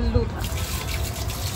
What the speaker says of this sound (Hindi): पानी करके पूरा डाल दो।